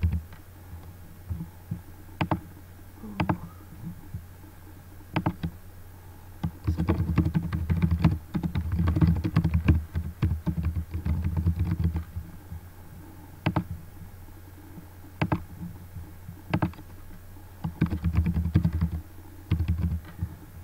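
Keys clatter on a computer keyboard in irregular bursts of close, crisp clicks and taps, with pauses between runs of typing and a low hum underneath while someone works through a mind-map editor.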